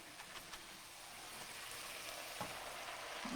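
Vegetables and noodles sauté in a wok for pad thai, giving a steady, hissing sizzle that stays even and moderately quiet throughout, with a faint clatter of tossing.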